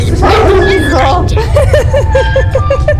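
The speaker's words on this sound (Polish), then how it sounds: "Nando, nie szczekaj, bo Stella nas zobaczy." A dog yips and barks in the retro video game Hugo, a quick series of short, evenly spaced woofs following a burst of talk and chatter.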